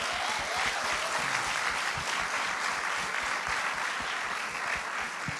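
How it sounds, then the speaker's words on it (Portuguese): A church congregation applauds together in a steady, dense wash of clapping that fills the hall, sustained at an even level throughout with no voices standing out. "Você pode aplaudir o Senhor?"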